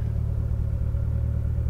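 A modified 1984 Toyota Corolla Levin AE86 engine running at a steady, close idle: a continuous low, throbbing rumble with an even pulse and no other sounds.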